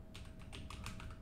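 A quick run of keystrokes on a computer keyboard, close and clear, with a handful of light taps in uneven rhythm.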